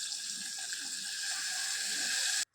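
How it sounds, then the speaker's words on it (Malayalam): Diluted curd poured into a hot clay pot, a steady close trickling and splashing wash of liquid that runs evenly for over two seconds and then cuts off abruptly. "നമ്മൾ ആ തൈര് വെള്ളം ചേർത്ത് കൂട്ടി വെച്ചിരിക്കുന്ന തൈരില്ലേ അത് അതിലോട്ട് ഒഴിച്ചു കൊടുക്കാം"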